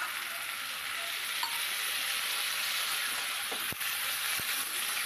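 Figs and potatoes sizzle steadily in a spice paste for a fig korma, a constant bright frying hiss with a couple of faint clinks and no voices.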